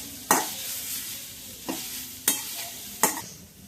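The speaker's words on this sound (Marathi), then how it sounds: "आपण दहा मिनटं असून गाजर हलवून घ्यायचं आहे" Grated carrots for carrot halwa are stirred in a pan, four scraping strokes at uneven intervals over a soft continuous sizzle.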